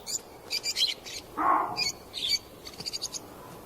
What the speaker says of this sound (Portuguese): Periquitos se abrigam na sombra das rochas.